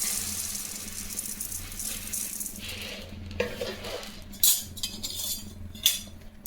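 Samba wheat is dry-roasted in a pan for a 26-grain porridge flour, the grains rattling and clinking steadily against the metal, with a few sharper scrapes of stirring.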